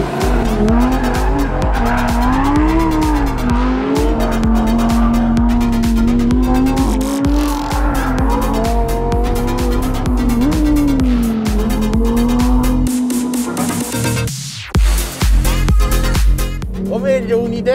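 A Lamborghini Huracán Tecnica with its V10 engine is driven hard on the Nardò handling track. A loud, close engine note rises and falls throughout, with sustained tire squeal and skidding as it corners, and a brief dip near the end.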